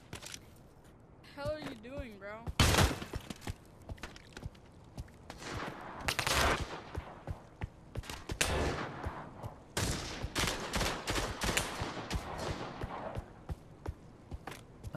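Shotgun blasts fired at long range in Pavlov Shack, a VR shooter on Meta Quest 3, come as repeated sharp bangs with scattered gunfire mixed in, while a voice talks at the start.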